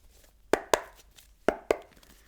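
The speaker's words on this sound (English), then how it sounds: "Just going to shuffle one more time." Tarot cards being shuffled, heard as two pairs of crisp, close slapping taps with a short gap between the pairs, quiet overall and without voices.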